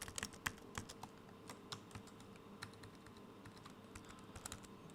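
A computer keyboard clatters quietly as someone types code, irregular bursts of light key clicks in quick succession over a faint steady room hum, with no talking.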